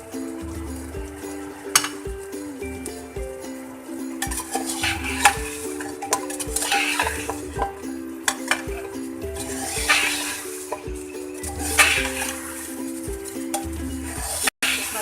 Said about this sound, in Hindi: मसाले को भी अच्छी तरह भूनना है हमें।